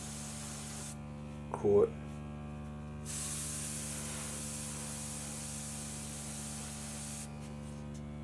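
An airbrush spraying paint onto popper heads gives a soft, steady hiss in two close bursts, beginning early and returning near the end, over a faint electrical hum, with a single brief spoken word just before the first burst.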